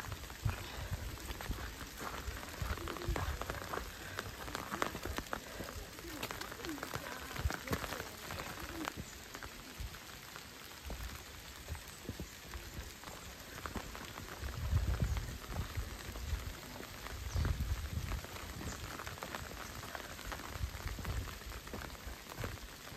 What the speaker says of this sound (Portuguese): Lá vamos nós, agora com chuva.